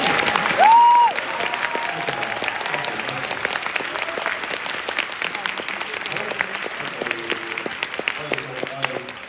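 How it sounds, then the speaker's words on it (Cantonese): Audience applause after a stage performance, scattered clapping spread through the room at moderate volume, with a brief tone and voices mixed in. "請大家俾你哋嘅掌聲。"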